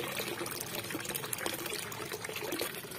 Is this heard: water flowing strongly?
yes